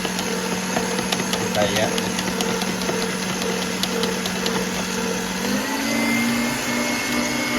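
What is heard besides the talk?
whisking six eggs, likely with an electric whisk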